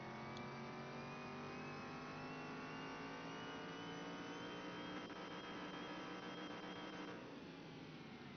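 A video game car engine in Car Mechanic Simulator 2021 revs steadily higher, its whining pitch climbing over several seconds before easing off slightly near the end.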